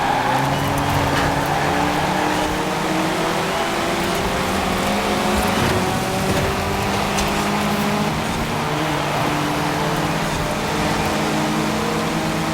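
Ford Escort race car from Forza Horizon 4 in a stock lap race, its engine droning steadily with layered harmonic tones throughout, holding a constant loud hum with mild shifts in pitch and no voices.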